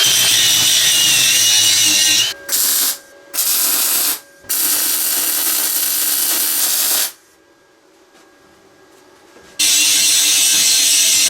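A power tool cuts metal pieces for custom tow bar covers, screaming loudly in long bursts broken by short stops and one longer pause before it starts again.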